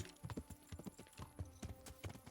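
Horse hooves clip-clopping in the medieval game Kingdom Come: Deliverance, a steady rhythmic walk of distinct thuds repeating evenly, quiet and close with no voices over it.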